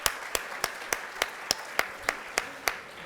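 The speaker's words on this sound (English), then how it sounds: "A huge round of applause, please" Sparse, separate handclaps ring out at a steady beat, about ten in three seconds, from an audience greeting panelists called on stage at an innovation and entrepreneurship panel discussion. The claps sound moderately near and thin, with no talk over them.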